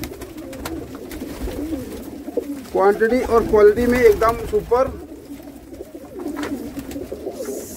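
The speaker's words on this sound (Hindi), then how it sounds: "सभी के सभी कबूतर देख ले जी गहरे जालदार गोल्डन रामपुरी देख ले जी कबूतर" Deep-netted golden Rampuri pigeons coo in a flock at a pigeon sale, a warbling burst rising over steady background murmur while someone talks throughout.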